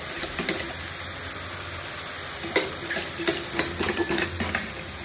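Mutton sizzles and fries in a pan while yogurt is added and stirred in, with a steady hiss under scattered scraping and clinking of the spoon, close by and with no talking.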